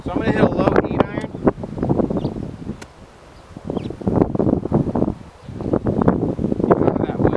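Wind gusting across an open golf course, loud rumbling buffets against the microphone that rise and fall, with a brief lull in the middle.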